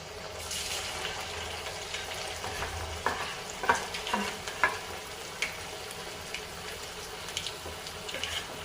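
Batter-coated spiral potatoes being lowered into hot oil over a medium flame, a steady close sizzle with a few sharp pops and crackles breaking through.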